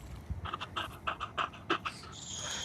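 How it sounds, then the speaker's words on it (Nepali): A household dog pants in quick rhythmic bursts, close and fairly loud, the breaths repeating steadily over a low steady background with no voices. "कुकुरहरू तपाईँहरूलाई कुकुर देखाऊँ एउटा घरकै हो हाम्रै घरको"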